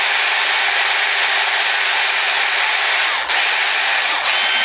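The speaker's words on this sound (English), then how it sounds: "I'm ready to go ahead and drill a hole" A cordless drill whines loudly and steadily as it bores a hole in a cast skull model, the pitch dipping briefly twice near the end.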